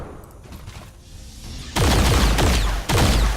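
Soldiers fire guns in XCOM 2, starting with quieter scattered shots, then two loud, sustained bursts of booming gunfire with sharp impacts close up.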